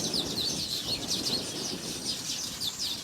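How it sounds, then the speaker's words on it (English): Many birds sing and chirp at dawn among the papyrus and reeds of a Kenyan wetland in Alego Usonga, Siaya County, forming a dense, continuous chorus of high twitters over a low rumble of ambient noise. "In the papyrus and reeds, birds are singing their beautiful tunes in their nests"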